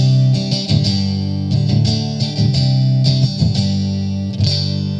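An electric guitar played through a Big Top Airborne Acoustic pedal in piezo mode gives a bright, close, under-saddle-pickup style tone as a few quick strummed chords ring out and sustain, loud and with no talking.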